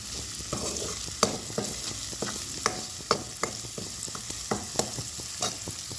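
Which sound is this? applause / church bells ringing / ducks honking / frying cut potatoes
frying cut potatoes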